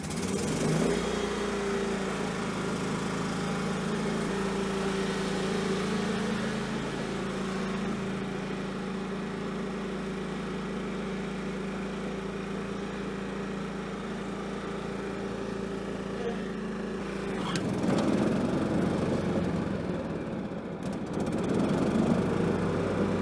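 A 2005 John Deere L110 lawn tractor engine runs steadily at a constant drone for most of the stretch, then surges louder near the end as the tractor is ridden.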